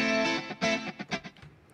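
A few overdriven electric guitar chords ring out with a gritty, distorted edge, then fade quickly.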